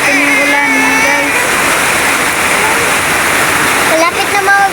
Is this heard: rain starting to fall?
yes